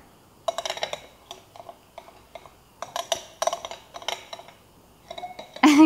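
A spoon stirs and scrapes a wet raw vegan chocolate macaroon mixture in a bowl, irregular bursts of clinking and scraping with short pauses between, ending in a louder clatter.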